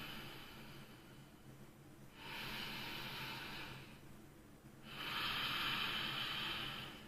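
Slow, deep breaths taken during meditation: two long, soft airy exhales of a few seconds each, separated by a quiet pause, close and fairly faint with no talking.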